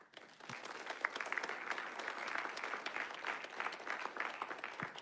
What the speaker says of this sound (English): So I give it a round of applause.